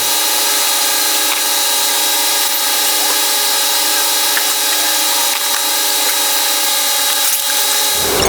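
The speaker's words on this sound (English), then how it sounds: "I can start unscrewing them and taking out the coil packs." A power tool, probably a drill, whines loud and steady while undoing coil pack bolts on a Camaro SS engine. It holds one continuous high-pitched run for about eight seconds, with no speech.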